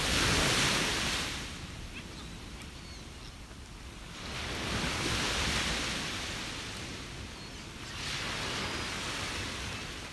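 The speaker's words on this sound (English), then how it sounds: "That's why the waves are louder." Ocean waves breaking on a beach close by, with two or three loud surges of surf washing in and receding, alone without voices.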